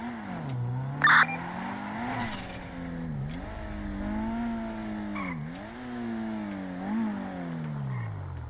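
A Kuruma car drives in a crime-themed video game, its engine droning steadily with rising and falling pitch as it accelerates and shifts, with a brief tire screech early on.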